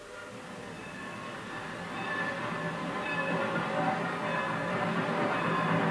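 A train rumbles along in a continuous low roar that grows slightly louder, with a steady mechanical drone and no speech.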